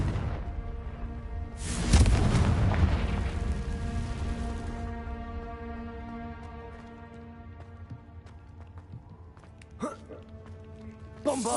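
A Confringo blasting-spell explosion in Hogwarts Legacy booms loudly with a whooshing burst, then rings out in a long, fading magical tone beneath a speaking voice, with a few later thuds.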